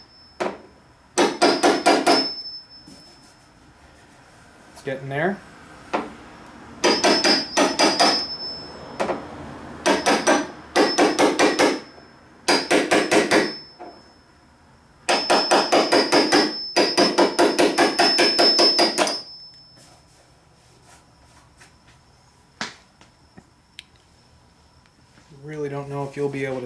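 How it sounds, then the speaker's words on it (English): Hammer blows flatten the trunk lid of a 1990 Miata, struck in repeated bursts of rapid sharp metallic whacks separated by short pauses, with a brief comment spoken between rounds. "give it a little whack all the way around"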